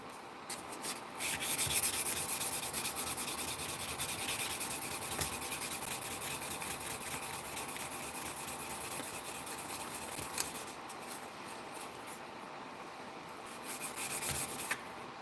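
Fine-grit sandpaper rubs over a custom fighting knife in close, continuous scraping strokes that rise and fall in loudness, with no talk.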